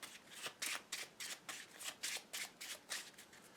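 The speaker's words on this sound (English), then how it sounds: "we have to shuffle the deck" A deck of cards being shuffled for the Marvel Legendary card game, with about eight crisp riffling bursts in a steady rhythm, close and clear with no talking.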